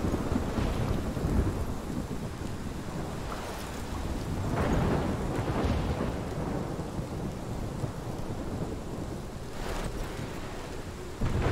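A thunderstorm with heavy rain in Life Is Strange: a constant wash of rain runs beneath several rolling thunder rumbles, some near and loud.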